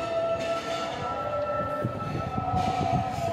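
A train pulling out of Shahdra Bagh Junction, a steady low rumble of wheels and carriages with a faint high tonal whine, heard from the platform at moderate distance.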